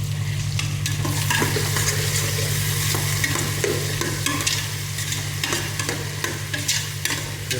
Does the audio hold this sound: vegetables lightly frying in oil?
yes